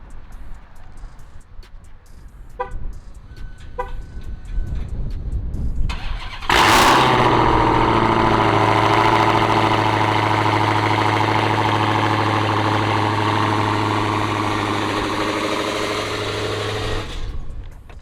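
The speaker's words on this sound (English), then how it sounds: "I'll give you guys that nice cold start, beginning of the day." A Dodge 3.6L V6 engine cranks and fires up on a cold start, then settles into a loud, steady idle with a deep rumble that holds until the end; faint clicks come first.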